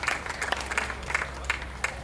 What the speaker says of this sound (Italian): vorrei che voi gli faceste un bellissimo applauso